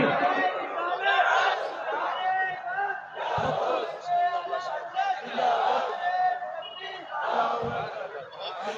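Crowd at an Islamic religious gathering shouting back in unison in several loud bursts, answering a call-and-response chant with rhythmic surges of voices and chatter between them.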